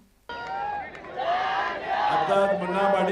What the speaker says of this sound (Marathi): उपस्थित नागरिकांमधून जल्लोष झाला